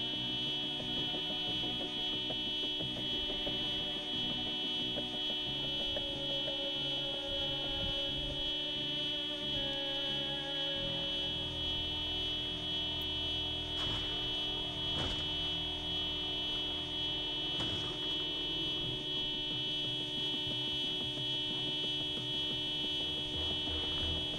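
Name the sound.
car alarm going off in Project Zomboid video game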